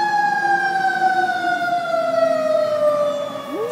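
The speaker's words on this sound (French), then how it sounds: "Pompiers et ambulances toute la nuit." A fire engine siren wails through the streets of San Francisco, a loud, steady tone sliding slowly downward across its sweep with rich harmonics, dipping and rising again near the end, with no talk over it.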